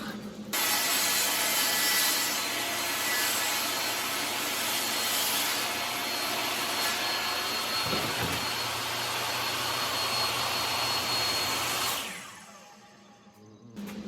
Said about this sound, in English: I got big sheets of plywood I need to rip